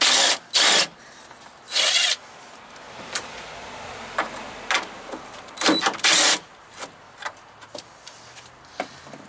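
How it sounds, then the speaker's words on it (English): Power tool with a deep socket backing out the four bolts holding a truck headlight, heard as several short whirring bursts with pauses between them and a few faint clicks and rattles in the gaps. "the deep socket, and taking the 4 bolts out."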